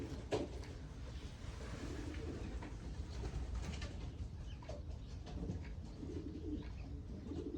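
Belgian racing pigeons coo softly and repeatedly amid a dense, noisy loft background, fairly faint, with no voices over them.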